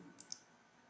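A computer mouse gives two quick, faint clicks a moment apart in a quiet room.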